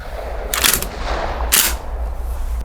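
Two loud close shots from a tuned Saiga-12 semi-automatic tactical shotgun, sharp booming blasts about a second apart over a low steady background rumble.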